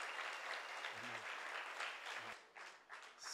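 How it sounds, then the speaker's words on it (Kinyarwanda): Congregation applauding during a church service, with sustained crowd clapping that stays fairly faint and distant, swelling and easing slightly before tapering off near the end. "amashyi menshi ku mwami"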